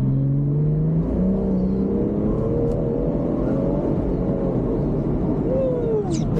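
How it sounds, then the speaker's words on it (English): A BMW car accelerating hard at full throttle in third gear in manual mode from about 30 mph, its engine note rising steadily and loud and close throughout, with a steady whir and rumble beneath. "3rd gear, manual mode, 30 miles per hour and full throttle."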